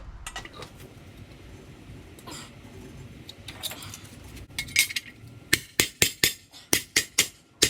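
Sheet metal for a hot rod cowl being pounded flat with a hammer: a run of sharp, ringing metallic strikes in quick succession, loud and close, following quieter scraping and handling.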